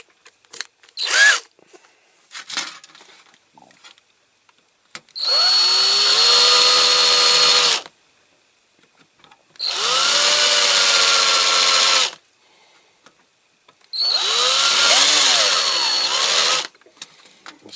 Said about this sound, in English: This big one in for the back rivet, because it's quite a big rivet.